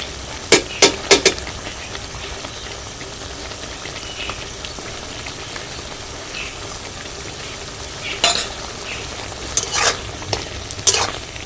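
Ginger garlic paste sizzling and frying in a pan while making butter chicken, a steady crackling hiss underneath with sharp scraping clatters of a spoon stirring in short bursts near the start and again toward the end.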